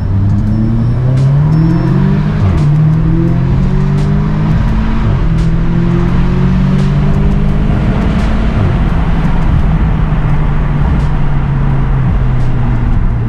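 An Audi S3 engine revving hard while accelerating, loud and close, with a rising, falling and climbing drone through gear changes, continuous and with no talk.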